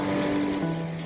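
Strong sea waves wash at the shore in Bandra, Mumbai, a steady loud rush of surf with wind noise across the whole short stretch.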